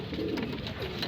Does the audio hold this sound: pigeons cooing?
yes